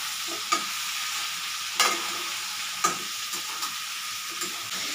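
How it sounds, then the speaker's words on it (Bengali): Pieces of pointed gourd and potato sizzle steadily in a pan as a spatula stirs them, with four or five distinct knocks and scrapes spread across the constant frying hiss, nearby and without speech. "এই দেখো পটল আলুটা একটু ভেজে নিচ্ছি"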